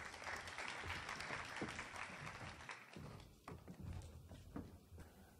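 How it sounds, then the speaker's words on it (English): An audience at a Jamaican panel discussion on employee engagement gives a sustained round of applause, steady dense clapping that holds for several seconds and thins slightly near the end. "Let's give him a round of applause."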